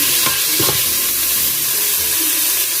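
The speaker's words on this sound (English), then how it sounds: "Gonna stir that while it's cooking." Peppers frying in a pot for taco soup with a loud, steady sizzle and hiss, with a couple of stirring scrapes near the start, close up and without speech.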